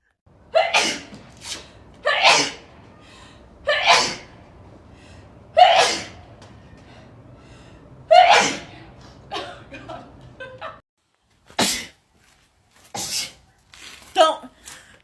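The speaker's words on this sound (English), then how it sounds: "record me sneezing. I hate sneezing." Sneezes from an allergy attack come in a steady run, about eight sharp bursts, each preceded by a gasping intake of breath, close to the microphone, with faint chuckles between.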